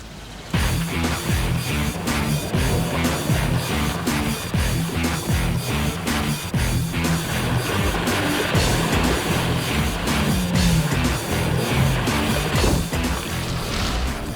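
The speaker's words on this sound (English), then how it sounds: "Driving in the dirt, this Nissan gives me a lot of confidence." Nissan X-Trail 4x4 driving off-road over dry dirt, a steady loud engine drone with continuous rumbling and repeated bumps and knocks throughout, no voices.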